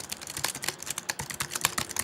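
A computer keyboard is typed on quickly and steadily, with a fast run of light, close key clicks at moderate loudness and no speech.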